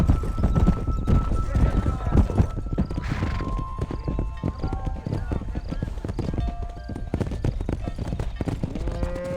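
Horse hooves clip-clop steadily in the Red Dead Redemption video game as a rider drives cattle down a road, with occasional whinnies, continuous and fairly loud beneath a man's spoken commands.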